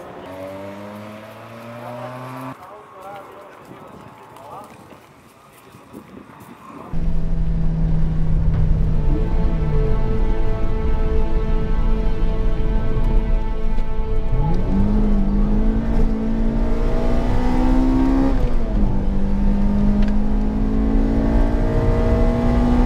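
A Toyota Corolla T Sport on wider tires lapping a track day circuit, its engine droning loud and close with rising and falling revs through gear changes, heard from inside the car after a quieter opening stretch.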